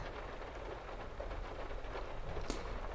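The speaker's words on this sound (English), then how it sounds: "The rain is nice, isn't it?" Heavy rain pattering on a car during a thunderstorm, a dense, soft, continuous hiss of drops on the bodywork heard from inside, fairly quiet and even, with one brief sharper tap near the end.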